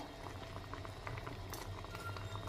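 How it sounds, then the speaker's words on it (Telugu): Onions boiling in a pot of water on a high flame, a continuous soft bubbling patter with rising steam, fairly faint and steady, no voices. "హై ఫ్లేమ్ పెట్టేసుకొని ఇది ఆవిర్లు వస్తున్నాయి చూసారా."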